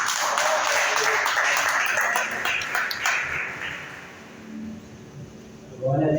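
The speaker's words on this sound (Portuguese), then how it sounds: "Vamos aplaudir o Senhor Jesus." Clapping from a church congregation at a worship service fills the first few seconds, then fades and thins out before a voice begins speaking near the end.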